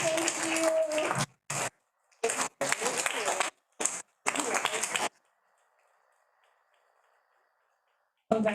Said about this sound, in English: She's coming, we keep clapping,